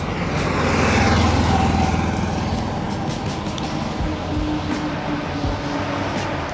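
A Toyota Celica Supra engine at an SCCA National Championship race at Road America gives a steady, fairly loud mechanical drone with a rumbling low end, mixed with outdoor background noise and no talking.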